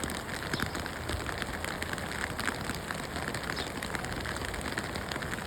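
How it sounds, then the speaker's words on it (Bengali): Light rain falls steadily outside in Chitkul in the Kinnaur valley, an even patter of drops on surfaces with no voices. "বাইরে ঝিরিঝিরি বৃষ্টি পড়ছে"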